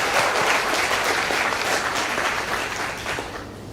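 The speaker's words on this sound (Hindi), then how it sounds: "शैलेंद्र जी लिए जोरदार तालियां।" Loud, continuous clapping from an audience honoring a guest at a talk, a thick wash of applause that holds steady and then tapers off slightly at the end.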